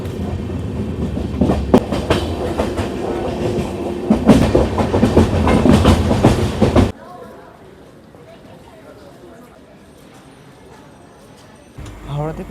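The 12704 Falaknuma Express, running Secunderabad to Howrah, pulls away from Palasa with a loud rolling clatter of wheels on rails and rhythmic clickety-clack. It drops abruptly to a quieter hum partway through, with voices present.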